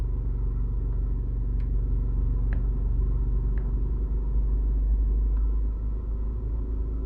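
A car cruises along a four-lane road heading toward Montego Bay, Jamaica, heard from inside as a steady, loud low rumble of engine and road noise with a few faint ticks, no talking.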